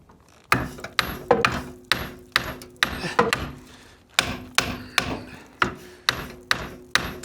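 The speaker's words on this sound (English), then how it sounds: "Tap on the caliper." Metal brake caliper on an abandoned Dodge Diplomat police car being struck again and again, sharp ringing metallic taps landing about every half second, close and loud with clear gaps between the hits.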